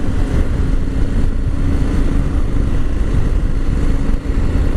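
Steady, loud engine drone of a 2022 KTM 890 Adventure motorcycle while riding, low rumble with wind noise, continuous with no voices.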